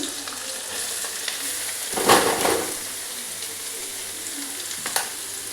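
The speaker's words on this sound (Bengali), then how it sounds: "পেঁয়াজটা একটু ভাজা হোক" Steady sizzling of onions frying in oil, with a louder burst of stirring partway through and a brief scrape near the end.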